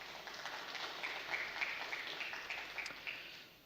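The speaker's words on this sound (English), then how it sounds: "I would like you to give a big round of applause to yourselves" An audience at a startup accelerator demo day claps for itself, a moderate, somewhat distant patter of applause that holds briefly then fades toward the end.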